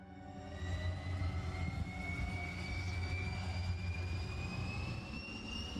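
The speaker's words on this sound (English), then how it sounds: "a military transport plane waited, its engines already spinning up" Engines of a military transport plane spool up on an airstrip, a loud, steady jet roar with rising whine tones that holds throughout the stretch.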